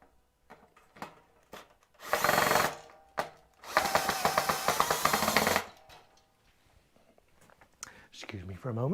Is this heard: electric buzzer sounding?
no